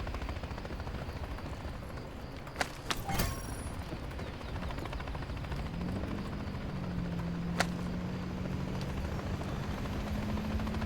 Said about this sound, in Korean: 헬기가 보인다.